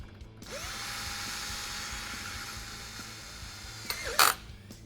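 A power drill drives a screw into a steel drywall profile, giving a steady, close, whining motor drone for several seconds, then a brief burst of rattling clatter as it stops.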